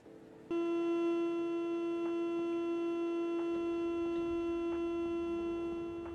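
Door-closing warning tone in Train Sim World 2 on the Marseille St Charles to Avignon line, a steady sustained electronic hum-like tone starting abruptly and holding for several seconds, loud and alone with faint periodic clicks.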